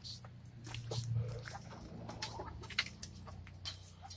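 A flock of chickens clucks softly nearby in a coop, with low murmuring calls and scattered scratching and pecking sounds, all fairly quiet.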